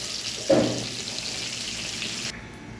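Okra frying in hot oil in a pan, a soft continuous sizzle with one louder burst early on, then a quieter tail.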